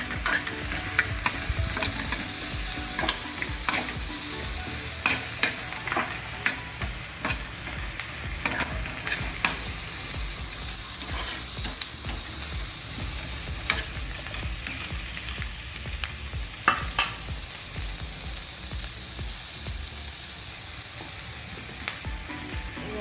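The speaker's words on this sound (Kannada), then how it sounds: "ಆಯಿಲ್ಗೆ ಸ್ವಲ್ಪ ಈರುಳ್ಳಿ, ಕ್ಯಾರೆಟು ಮತ್ತು ಕ್ಯಾಪ್ಸಿಕಮ್ ಮೂರು ಹಾಕಿ ಶಾಲೋ ಫ್ರೈ ಮಾಡ್ತೀವಿ. ಹೈ ಫ್ಲೇಮಲ್ಲೇ ಇರುತ್ತೆ." Onion, carrot and capsicum shallow-fry in oil over a high flame, a continuous loud, dense sizzle with frequent scraping stirs and small pops scattered throughout.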